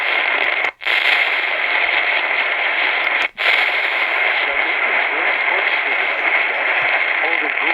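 Steady hissing static fills the evening AM broadcast band in the Chicago area on a Radioddity GS-10B Pro receiver with a Terk Advantage antenna. A faint voice sits under the noise, and two brief dropouts cut in.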